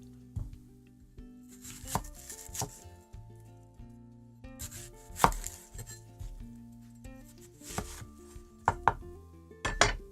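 A kitchen knife chops a store-bought onion on a board in uneven bursts of sharp close taps, with pauses and a few louder knocks against the board.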